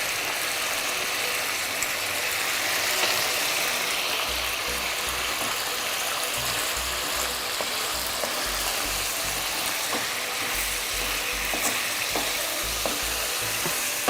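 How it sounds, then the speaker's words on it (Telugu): Ginger garlic paste sizzles and fries steadily in a pan for a village-style mutton curry, a continuous close crackle with intermittent low scraping knocks, no voices. "ఇప్పుడు జింజర్ గార్లిక్ పేస్ట్ వేస్తున్నాను"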